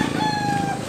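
A Hedylock bloodline gamecock crows briefly in a single short, close call with a harmonic, sustained tone.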